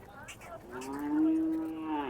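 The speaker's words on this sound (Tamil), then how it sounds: "இப்போ பாருங்கள் மக்கள் மாட்டு ஓட்டிகிட்டு போகிறாங்க" Native cattle, including Bargur hill breed, are driven by people at the Anthiyur Gurunatha Samy temple festival in 2024; one long, close, drawn-out moo rises and swells, with faint crowd noise behind.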